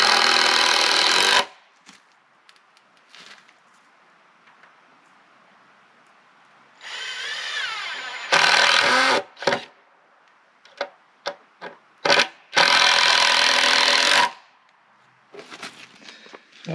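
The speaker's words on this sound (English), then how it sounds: "I put my screws, I've always been in the habit, especially with treated wood, of coming in at a slight angle" Cordless power drill driving screws into treated wood, several loud bursts of whirring separated by pauses and short clicks, with a longer steady run near the end; no talking.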